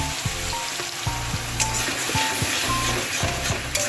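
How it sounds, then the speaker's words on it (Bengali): Onion and tomato paste hitting a hot pan in a home kitchen, a steady loud sizzle and hiss throughout, with soft scraping stirs breaking in at a regular beat. "পেঁয়াজ টমেটো পেস্টটা মিক্সি করে দিয়ে দিলাম।"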